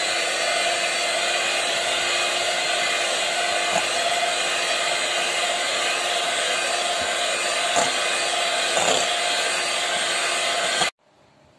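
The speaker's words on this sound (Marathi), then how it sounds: "इथं व्हिप क्रीम घेतलंय मी कपभर, ते आता आपण ब्लेंड करून घेऊया।" An electric blender whips about a cup of cream for an eggless mango cake, a steady loud motor whine running unbroken for around eleven seconds before cutting off abruptly, with no voices over it.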